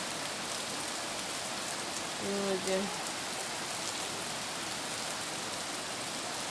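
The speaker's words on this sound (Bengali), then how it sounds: "এত বৃষ্টি হচ্ছে" Heavy rain pours steadily over a flooded village yard, a dense unbroken hiss throughout, with a brief tonal sound from something else breaking through midway.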